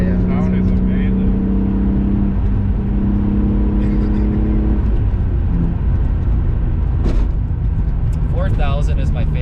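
A BMW M3 engine revs while driving on a road, a steady loud drone with rising and falling pitch heard from inside the car, with people talking over it throughout.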